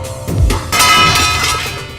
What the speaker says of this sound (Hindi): ये बर्तन गिरने की आवाज है पिताजी।